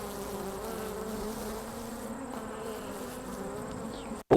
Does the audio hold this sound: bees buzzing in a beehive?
yes